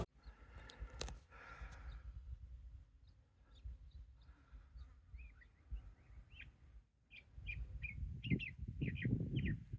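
Several short, high bird chirps scattered through the second half, faint against low rumbling outdoor background noise.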